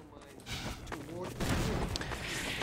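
Gunfire in the shooter Half-Life 2, a scattered series of shots and impacts building over a couple of seconds, with speech mixed in among them.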